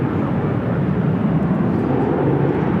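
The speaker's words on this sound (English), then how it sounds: "Virgin Atlantic flight 141, the A350 1000, second A350 1000 with Virgin, also be heading up here to the north side." Virgin Atlantic Airbus A350-1000 at LAX, a steady low rumbling jet roar, moderately loud and unbroken, with no distinct voices over it.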